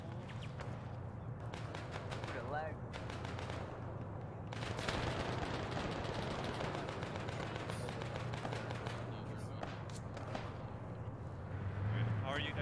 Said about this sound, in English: Yeah, we got shots coming from north.